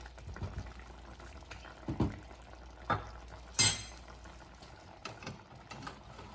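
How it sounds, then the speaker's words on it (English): Blackened salmon goes back into a pan of simmering sauce, giving a steady bubbling sizzle broken by a few sharp metallic clinks and scrapes of a utensil against the pan. "put the salmon back into the pan"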